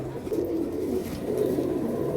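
Pigeons at a pigeon seller's stall in Nitaiganj, Narayanganj, coo steadily at close range, a low murmuring burble that runs on continuously under a faint background hum.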